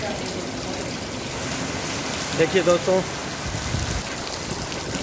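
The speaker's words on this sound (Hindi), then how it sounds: "अच्छी बारिश है" Heavy monsoon rain pours down in Sirsa on a dark afternoon, a dense steady hiss of rainfall throughout, while someone talks over it briefly near the middle.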